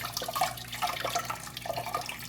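Water trickles and drips on a felted crocheted bag, a soft irregular patter of small splashes close by, with no talking.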